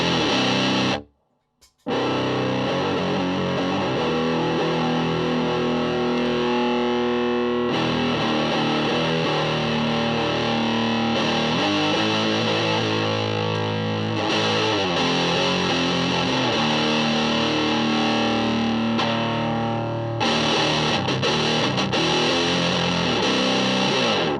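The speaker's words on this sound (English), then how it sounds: "the massive range of sounds that you can get out of this pedal" A heavily distorted electric guitar through a FuzzBeard Industries Tuskano DeLuxe fuzz pedal plays continuously and loudly, with a brief silent gap near the start and the tone shifting as it goes.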